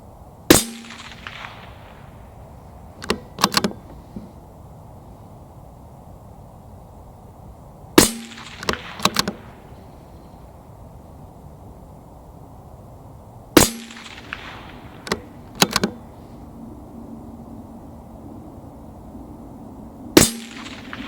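Four sharp rifle shots from a CZ 457 Thumbhole Laminate chambered in 17 HMR, fired outdoors at a target, each crack standing alone with quiet gaps of several seconds and a few fainter clanks and handling noises between.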